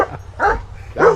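A dog barks three times close by at home, loud yippy barks with whiny edges, spaced evenly with short pauses between.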